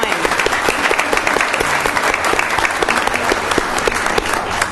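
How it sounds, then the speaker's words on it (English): Audience at a school board meeting giving the class of 2009 a round of applause, a continuous, loud, dense clapping from a large crowd. "let's give them a round of applause"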